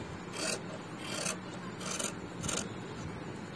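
Scissors cut a center piece of fabric for a sleeve, giving about five evenly spaced, soft rasping snips close by over a quiet background, with no talking.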